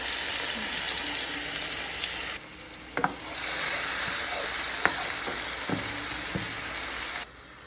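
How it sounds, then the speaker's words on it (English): Herbs dropped into a cooking pot for a steamed callaloo dinner sizzle steadily and closely, with a few sharp clinks of a utensil against the pot and a brief dip in the hiss midway; no one speaks. "So now I'm going to put the herbs in the pot."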